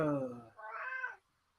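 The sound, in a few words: cat meowing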